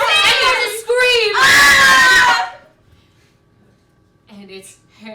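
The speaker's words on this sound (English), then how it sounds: "the lights go out! And there's a scream!" In a staged theatre play, loud, high screams ring out over the first couple of seconds, then cut off into near silence before a few quieter voices come in.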